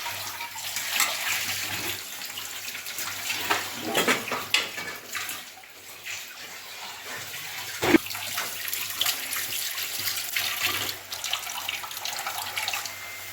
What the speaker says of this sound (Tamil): அந்த ஜார் அப்படியே கழுவிட்டு இதில் ஊற்றணும்